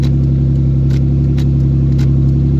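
A rolled-over Isuzu engine idles steadily after a cold start, a loud, close, continuous low rumble with a few faint metallic clicks on top.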